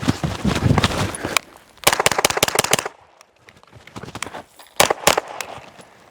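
A pistol-caliber carbine fires rapid strings of loud, close shots during a timed cold-start shooting drill, in three quick bursts separated by brief pauses.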